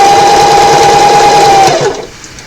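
Sewing machine stitching fabric for a quillow, a fast steady whirring hum for about two seconds, then slowing and stopping, close and loud with no talk.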